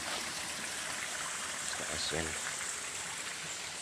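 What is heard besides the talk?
stream of flowing water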